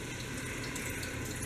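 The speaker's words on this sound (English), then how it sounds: "you pour in your chicken broth and" Chicken broth pours into a pan over flour and butter in a home kitchen, a steady, moderately quiet liquid splash and trickle that runs unbroken throughout.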